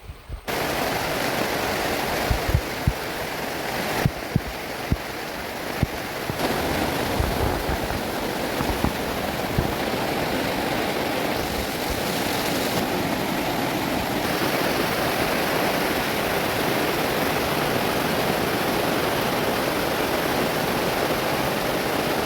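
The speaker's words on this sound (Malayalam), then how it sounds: "ഈ കാണുന്ന വെള്ളം കണ്ട കളകളകള ആ സൗണ്ടാണ് എപ്പോഴും ആ ഒരു വെള്ളത്തിൻ്റെ ആ ഒരു സൗണ്ടും" Water flows steadily in a stream amid cool, green surroundings, a continuous loud rushing and babbling that stays even throughout with no voices.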